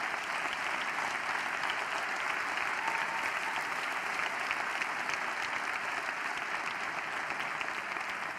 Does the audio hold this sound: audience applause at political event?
yes